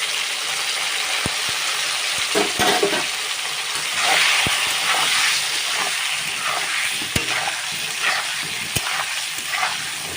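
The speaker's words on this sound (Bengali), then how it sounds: "এবার আমি হালকা একটু লাল করে ভেজে নেব" Pointed gourd (potol) frying in a pan with turmeric makes a steady, close sizzling hiss, punctuated by sharp clicks and taps of stirring throughout.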